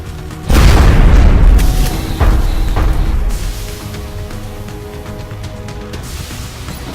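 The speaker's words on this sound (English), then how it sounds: "Oh, the explosion actually damaged the other sectopod" A loud, deep explosion booms in the XCOM turn-based strategy game, near a sectopod robot, followed by a rumbling tail and a second thump that fade into lingering ambient game noise.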